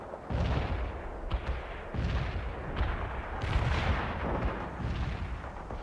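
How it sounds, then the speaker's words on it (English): Artillery strike in the World in Conflict strategy game, a rolling series of heavy booming impacts and rumbling blasts overlapping one another, loud and dense with no gaps. "Commence artillery strike"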